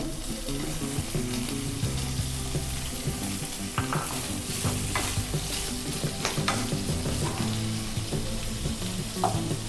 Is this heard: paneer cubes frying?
yes